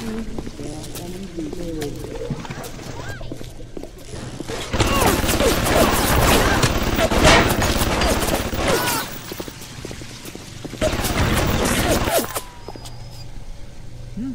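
A hacked turret in BioShock Remastered fires sustained rattling bursts with mechanical clatter, loud and dense for several seconds, pausing, then firing again. Game ambience sits under it and a voice talks now and then.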